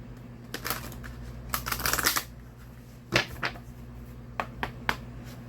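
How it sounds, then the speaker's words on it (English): A deck of tarot-style cards is shuffled by hand in several quick riffling bursts, with short crisp snaps and pauses between them in a quiet room. "Now we're just going to shuffle the deck"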